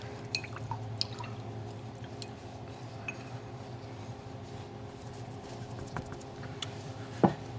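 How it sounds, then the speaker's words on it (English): A paintbrush is rinsed in water while painting a snow globe: faint, sparse drips and small liquid taps over a low steady background hum, ending with one sharper splash near the close. "I'm going to go ahead and rinse my brush."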